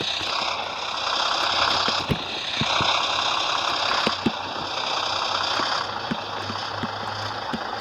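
Truck engine in Trucker: Mountain Delivery pulling away in first gear, a steady low rumble under a continuous watery, gurgling wash, with scattered faint clicks and knocks throughout.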